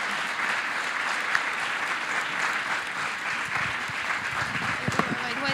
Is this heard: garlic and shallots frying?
no